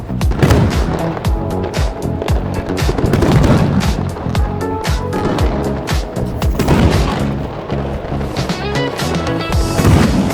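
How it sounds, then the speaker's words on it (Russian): Dense, rapid bursts of booming fireworks crackle and pop continuously, loud and overlapping, with no pauses between explosions, during a Tet celebration in Ho Chi Minh City seen from a 42nd floor. "Основной фейерверк там, но он немножко за забором от меня"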